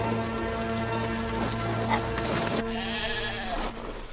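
Sheep bleating steadily, several overlapping wavering calls close by, continuous throughout with no talking.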